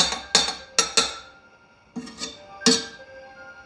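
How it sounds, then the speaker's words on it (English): A household clock chimes in the background of a home kitchen, giving about six bright metallic strikes in an uneven pattern, each ringing and fading out, fairly close and moderately loud. "I apologize if you could hear my clock chiming in the background"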